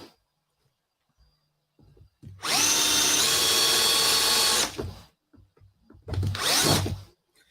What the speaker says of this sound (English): it's a lot of screwing in of screws and putting things together.